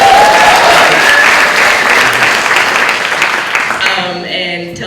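A seated audience at a talk on Black liberation and anti-racism bursts into sustained, loud applause, dense clapping filling the room before tapering off near the end as a few scattered claps and a voice emerge.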